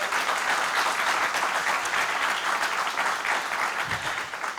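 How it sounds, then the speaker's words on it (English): An audience claps at a university event, steady and fairly loud applause that holds for several seconds and eases slightly near the end. "rousing round of applause for Bank of America"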